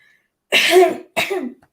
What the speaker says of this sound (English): let me cough really fast